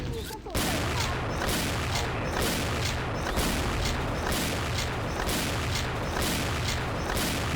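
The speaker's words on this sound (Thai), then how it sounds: "ระเบิดตก" Rapid rolling bomb explosions and gunfire bursts from the shooter game XSHOT, loud and continuous, with repeated sharp blasts overlapping one another.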